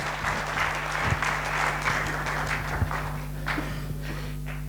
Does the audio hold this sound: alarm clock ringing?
no